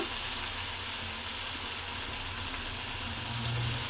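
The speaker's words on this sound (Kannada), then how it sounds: "ನೋಡಿ, ಎಣ್ಣೆಯಲ್ಲಿ ಕಾಳು ಫ್ರೈ ಮಾಡ್ಕೋಬೇಕು" Soaked avare (hyacinth) beans fry in oil, giving a steady, close hiss and sizzle throughout with no talking.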